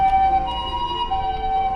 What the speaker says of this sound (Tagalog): nakita nyo, mayroong ambulansya